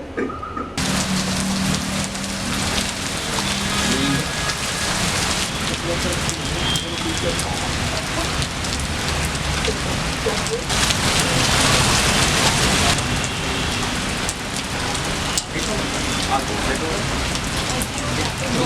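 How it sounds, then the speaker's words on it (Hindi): Heavy rain pours steadily and loudly across the whole stretch, a dense continuous hiss of drops striking surfaces, with a faint voice briefly audible near the start. "बारिश बहुत हो गई यार।"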